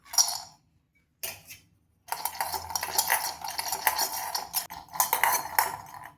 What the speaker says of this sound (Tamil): பாதாம், முந்திரி, பிஸ்தா அடுப்பை சிம்மில் வச்சு இதை லேசாக வறுத்துக்கலாம்